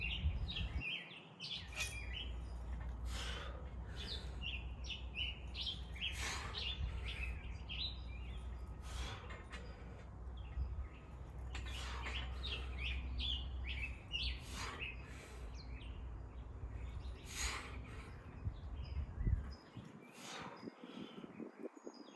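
Birds chirp and tweet outdoors around a workout spot, a steady scatter of short, bright calls repeating throughout at moderate distance over a low background rumble, with no talking.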